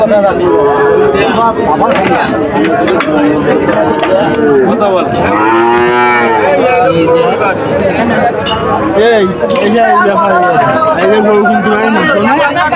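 Cattle moo repeatedly amid a busy crowd at the Chuknagar cattle market in Khulna, with people chattering and calling out throughout; the lowing rises and falls over continuous background talk.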